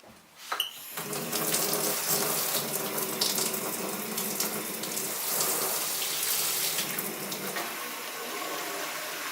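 Warm tap water runs into an empty orange juice container, starting with a sharp clunk and then a steady, loud gushing stream that holds for several seconds with a slowly shifting pitch as the container fills.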